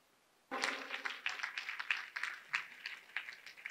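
An audience at an Indian Independence Day (Azadi ka Mahotsav) celebration in New York breaks into applause all at once after a brief hush, with dense, moderately loud clapping sustained to the end.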